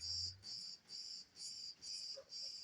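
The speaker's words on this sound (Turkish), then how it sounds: "cırcır böceğine kızmaya hakkımız yok. O da mesleğini icra ediyor." A cricket chirps in a steady repeating pulse, six evenly spaced bursts, clear against quiet surroundings.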